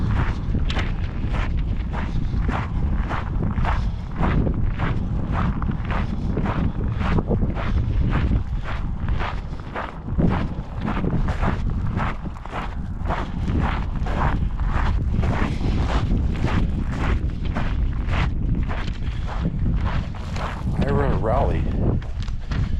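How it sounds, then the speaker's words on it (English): Steady, heavy wind buffeting a microphone outdoors in a cemetery in Colorado, a loud continuous rumbling roar with gusty pulses lasting throughout. "Of course, the wind has to be blowing."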